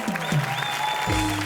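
Studio audience applause on an Indian television entertainment show, greeting a Bigg Boss winner. The clapping runs steadily for the whole moment at moderate loudness, with a low musical tone sustained underneath.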